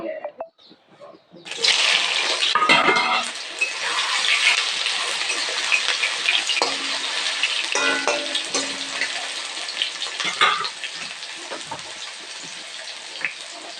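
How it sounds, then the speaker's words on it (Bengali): Soybean chunks fry in hot oil in a wok with a loud, steady, hissing sizzle that starts abruptly and carries on throughout. A few clanks of stirring and some faint speech sit beneath it. "এরপরে আমি সয়াবিনগুলি ভেজে নেব"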